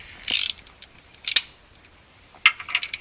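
A big half-inch drive ratchet wrench turns a 17 mm bolt during transmission removal on a Honda DC5 or EP3. Close, crisp ratcheting clicks come in three short bursts separated by pauses.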